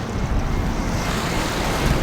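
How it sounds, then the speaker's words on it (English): Strong wind at a scenic coastal spot roars steadily against the microphone, a dense low rumble with surf-like wash and no voices. "It's also a bit windy right here."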